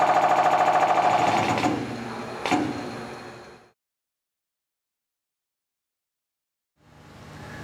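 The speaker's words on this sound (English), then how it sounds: "you simply initiate the hydraulic clamps." Forwell hydraulic die clamps locking a die in place on a stamping press give a loud, steady mechanical whirring buzz for about three and a half seconds. The noise cuts off abruptly into silence, then resumes near the end.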